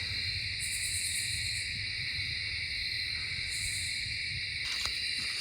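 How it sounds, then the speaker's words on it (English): A barred owl calling at dusk in southern Indiana woods, its hoots carrying faintly through a steady wall of loud insect and cricket trill with no talking. "Just heard a nice barred owl."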